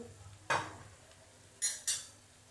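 Onion frying in a pan with turmeric and coriander powder added: a faint background sizzle broken by three brief scraping stirs of a spoon, no talk.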